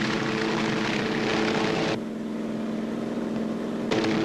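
Steady mechanical drone of a helicopter flying overhead, with a whirring rotor beat; the tone drops suddenly partway through, then rises again near the end.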